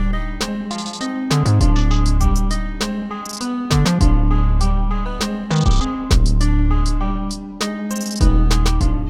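Hip-hop beat with all parts playing together, unmixed: booming low bass notes, crisp repeating hi-hats and a looping melody, loud and continuous with no voice.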